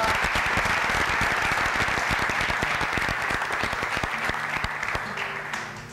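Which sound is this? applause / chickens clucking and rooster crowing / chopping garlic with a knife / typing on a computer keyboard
applause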